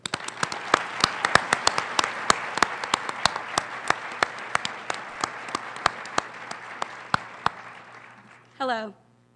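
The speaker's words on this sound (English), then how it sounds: "Will you please join me in giving another round of applause to the members of the artistic expression" Audience applause at a Dr. Martin Luther King Jr. celebration program: a room of steady clapping with sharp individual claps standing out for about eight seconds, then it stops and a brief voice follows.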